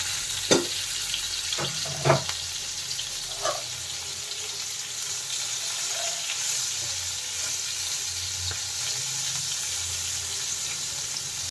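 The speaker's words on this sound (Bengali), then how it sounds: "দিয়ে নুনটা দিয়ে এটা আমি ভাজবো" Banana pieces frying in a pan with salt and a little turmeric give a steady, close sizzle, with a few sharp clinks of stirring near the start.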